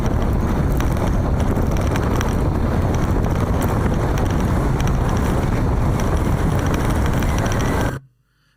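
Heavy wind buffets a microphone during a rough, rocky ride, a loud, continuous roar with thumping that fills the sound for about eight seconds and then cuts off abruptly, with no voices.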